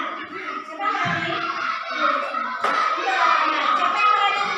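Children clap their hands together in a classroom, a lively burst of applause mixed with young voices and chatter, starting around the one-second mark and swelling again near the end.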